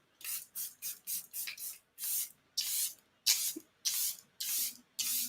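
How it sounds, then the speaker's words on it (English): Charlotte Tilbury Airbrush Flawless Setting Spray mists onto a face in about a dozen short, crisp hissing bursts with brief gaps between, close up and alone. "I'm going to actually spray my face first with the Charlotte Tilbury Airbrush"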